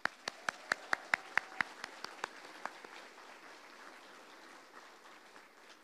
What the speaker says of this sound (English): One more round of applause, folks.